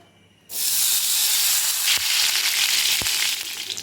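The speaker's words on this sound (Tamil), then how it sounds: "இப்போ இதே கடாயில் நம்ம நெய்யை உருக்கிடலாம்." Ghee melting in a kadai after roasting, giving a steady loud sizzle and hiss that starts abruptly and continues throughout, with a couple of brief clicks partway through.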